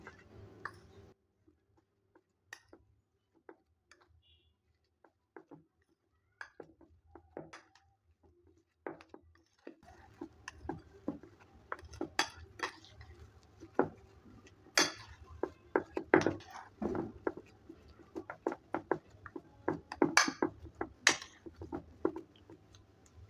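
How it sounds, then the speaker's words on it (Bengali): Potato dough with coriander powder, mustard oil and spices is mixed by hand in a bowl for aloo puri. Soft, irregular squishing and tapping begins faint and sparse, then grows busier and louder, close up with no talk. "সব কিছু দেওয়ার পর এবার ভালো করে মেখে নেব।"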